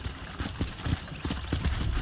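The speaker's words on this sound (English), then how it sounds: "I picked out a fine horse for you." Horse hooves clip-clop in a steady, moderately paced rhythm over a noisy background, fairly close, in Red Dead Redemption.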